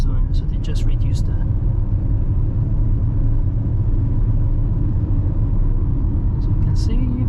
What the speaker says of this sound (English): At least you can hear the engine noise, everything.